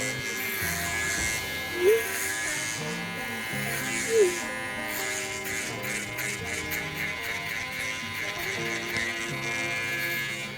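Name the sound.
hair clipper feathering a low taper haircut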